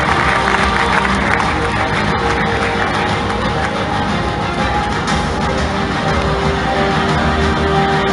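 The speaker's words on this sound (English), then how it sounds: "please a round of applause for Mr. Bill Eng." Audience at a hall of fame awards ceremony breaking into loud, dense applause mixed with cheering, a continuous crowd roar that stays level throughout.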